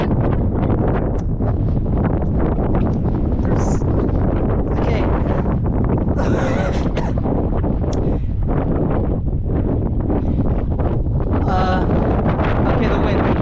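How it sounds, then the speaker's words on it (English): Strong wind gusting around a sandstone rock arch at Arches National Park, roaring and buffeting the microphone continuously and loudly, with rustling bursts throughout. "Okay, the wind."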